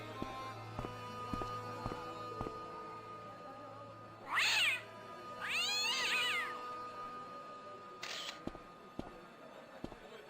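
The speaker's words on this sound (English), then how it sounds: "A cat." A cat in the adventure game Broken Sword: Shadow of the Templars, set in Marib, gives two drawn-out meows midway, the second longer and wavering, over quiet ambient game sound with faint clicks.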